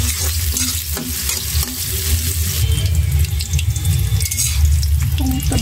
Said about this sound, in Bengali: পেঁয়াজটা কিছুক্ষণ ভেজে নিব